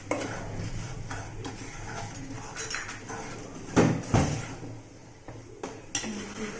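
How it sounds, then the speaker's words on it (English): Mohanthal, a gram-flour sweet, stirred in a pan with a spoon, close scraping and knocking against the metal that is uneven and intermittent, with a couple of louder clanks near the middle and no talking. "This is the point you just can't avoid to stir it"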